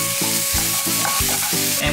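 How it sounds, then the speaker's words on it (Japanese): Mushrooms stir-fry in a little olive oil with a pinch of salt, making a loud, close, continuous sizzle broken by regular spatula scrapes about three times a second. There is no speech. "もうキノコ入れちゃいます。 さっとね、熱を通したいだけなので、お塩一つまみ、これで炒めるだけです"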